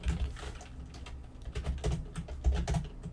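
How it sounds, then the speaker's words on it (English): Text typed on a computer keyboard: quick, irregular clicking keystrokes, close and moderately loud, with no talking. "I'm going to click in the top left and I'm going to type in approved by."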